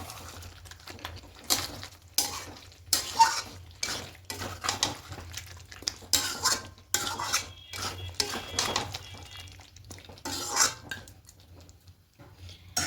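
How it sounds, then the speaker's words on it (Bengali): Chicken kosha being stirred in a pan over medium heat, a spoon scraping and clinking against the metal in irregular bursts of close, moderately loud clatter with short pauses between, no talking. "খুলবো, একটু ভালো করে নেড়ে নেব।"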